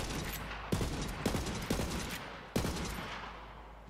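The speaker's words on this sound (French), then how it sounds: "Donc en fait c'est un fusil d'assaut légendaire mais qui fait snipe." A legendary assault rifle in Borderlands 3 firing single heavy sniper-like shots, four sharp booms spaced irregularly with echoing tails over a constant low game background.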